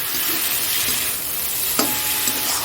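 Egg curry masala sautéing in oil until the oil separates, a steady close sizzle and frying hiss with a spoon stirring and scraping the pan, one sharp clink near the end.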